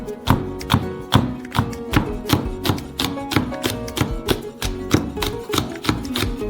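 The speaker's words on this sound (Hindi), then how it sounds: "हम मिर्च को काट लेंगे।" A knife chops chilies on a board in quick, even strokes, about sixteen crisp cuts in a row. Close, clear and loud, with no talk.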